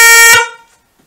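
Single short blast from a 510 Hz horn fitted to a Harley-Davidson Sport Glide motorcycle, loud and close, a bright steady tone held under half a second before cutting off with a brief fading ring.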